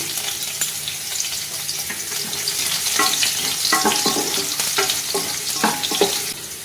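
Raw pumpkin cooks in a hot pan with nigella seeds and garlic, sizzling steadily while a spoon scrapes and stirs in quick bursts that grow busier, close and without talk.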